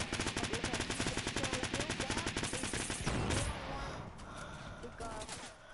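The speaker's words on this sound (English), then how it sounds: "They're shooting me." Gunfire in a shooter video game: a long rapid automatic burst of shots for about three seconds, followed by rumbling and scattered effects, with a player's voice over the game sounds.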